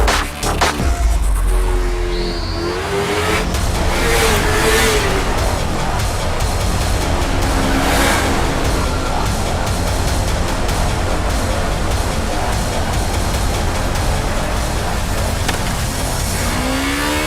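Yamaha YZF-R25 motorcycle engine revving steadily and loudly throughout, a dense continuous roar with rising and falling throttle blips near the start, heard alone without talk.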